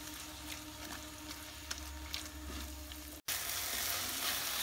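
Roasted, mashed eggplant being stirred into a hot frying pan for baingan bharta makes a soft, continuous sizzle with faint scraping taps. A brief gap of silence comes near the end, then the sizzling returns.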